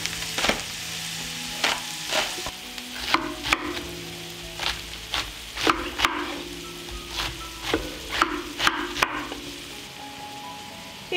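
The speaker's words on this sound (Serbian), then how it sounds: "I sve ćemo promešati i propržiti da omekša." Onion, garlic and vegetables sizzle steadily in a hot pan, with frequent sharp clacks and scrapes of a utensil stirring them, all close and with no voices.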